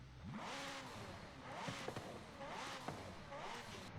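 The engine of a McLaren Senna in the racing game Forza Horizon 5 is revved four times in quick rising-and-falling sweeps, a fairly quiet, steady rhythm of throttle blips with no talk.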